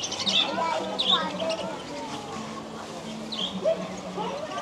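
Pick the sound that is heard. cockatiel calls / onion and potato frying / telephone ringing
cockatiel calls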